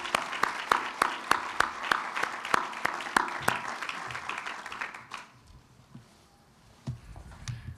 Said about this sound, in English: Let's have a round of applause for our immediate neighbors.